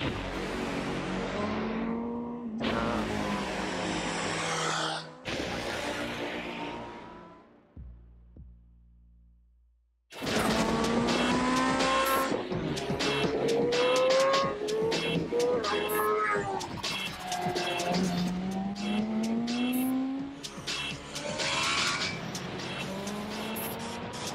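A BMW M1000RR sport motorcycle engine screams loudly through rising revs and quick gear changes, broken by a short, almost silent pause before roaring again.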